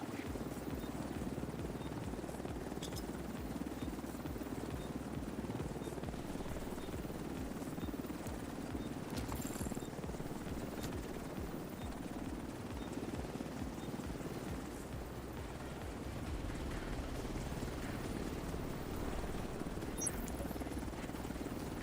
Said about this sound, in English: Helo is headed back.